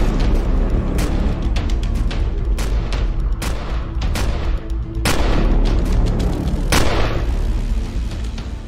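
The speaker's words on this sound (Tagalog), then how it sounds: "di nagdalawang isip na paputukan ng baril ni William Grayson ang mga ito." Soldiers firing rifles in a gunfire sound effect, loud shots and booms cracking out rapidly and irregularly over a constant rumbling din, with no talk.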